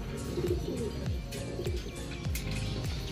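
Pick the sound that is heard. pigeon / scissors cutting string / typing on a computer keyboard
pigeon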